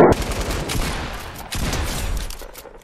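Rapid gunfire crackles in a Fortnite match, bursts of shots layered over one another in a dense, loud volley that surges again midway, with no voices over it.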